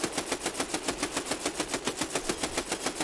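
Rapid automatic gunfire from a weapon in Escape from Tarkov, a steady burst of evenly spaced shots about ten per second, loud and close, with no talking over it.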